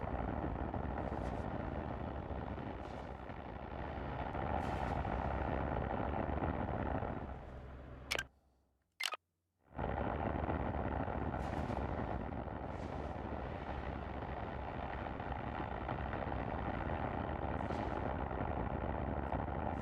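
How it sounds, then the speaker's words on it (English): Steady low roar of spacecraft engines in a space trucking video game, compared to SpaceX Raptor engines, continuous and fairly loud with a brief cutout to near silence midway before resuming. "These engines sound like the Raptor engines on SpaceX."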